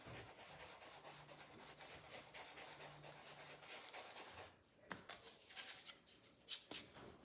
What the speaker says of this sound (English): now we're gonna take in these little areas and we're just gonna sand